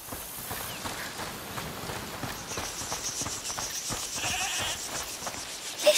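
Goat bleating in the video game A Plague Tale: Requiem, with short calls rising over a steady bed of clattering ambience and no talking.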